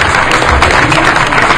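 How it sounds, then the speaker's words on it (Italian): An audience at an Italian comics event honouring Max Bunker and Alan Ford applauds in a short, loud, dense burst of clapping. "Allora un applauso, grazie."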